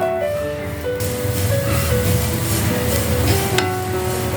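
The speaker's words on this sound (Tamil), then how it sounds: "தேங்காவும் கொஞ்சம் ஃப்ரை பண்ணி எடுத்துக்கலாங்க." Grated coconut fries and is stirred in a pan for Poorana Kozhukattai, a steady close sizzle with scraping stir strokes and an occasional clink of the spoon against the pan.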